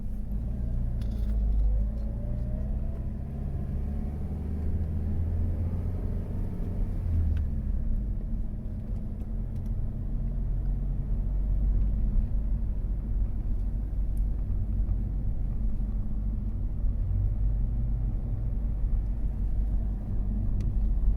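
A car drives the one-way Cwmcarn Forest Drive in South Wales, its steady low engine and road rumble heard from inside the cabin for the whole stretch, with no talking.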